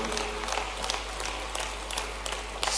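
An audience at a public housing-scheme event in Bhopal applauds the Chief Minister, with steady dense clapping from a large crowd throughout, fairly distant and even.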